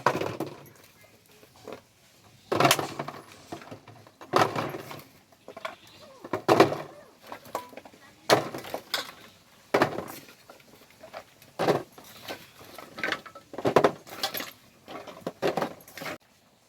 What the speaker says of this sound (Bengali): এই কৌটোর মধ্যে প্রথমে আমি আমড়াগুলো সব ভরে নেব।